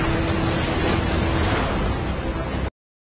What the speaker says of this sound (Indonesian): terjadi ledakan besar di dalam kedai Nopak